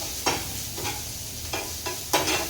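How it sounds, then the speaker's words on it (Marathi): Chopped onion sautéing in a pan for a festive vegetarian thali sizzles steadily, cut by about four quick scraping stirs of a spatula at a close, even rhythm. "कांदा सुद्धा छान परतून घेणार आहे।"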